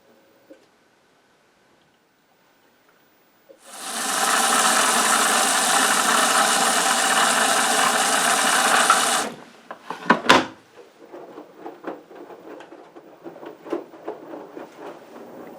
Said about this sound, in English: the machine is actually sensing the weight of the clothes in the wash tub